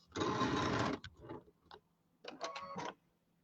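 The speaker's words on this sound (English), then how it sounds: "And I'm going to sew these together" Domestic sewing machine stitching quilt pieces for a bench pillow top, a loud steady run of rapid needle strokes, then a couple of short bursts, a pause, and a second sustained stitching run, close by and with no talk.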